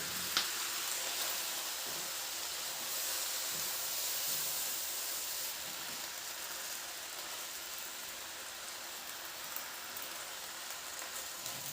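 Cabbage with chicken breast sautéing in a pan, giving a steady, soft, hissing sizzle that continues throughout without a break.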